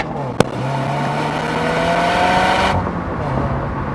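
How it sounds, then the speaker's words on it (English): A stock Subaru WRX exhaust, recorded from a microphone at the rear while driving, gives a steady, loud engine and road drone with one sharp pop near the start and no clear series of bangs. "we have gotten some audio clips of the stock exhaust popping and banging with a microphone"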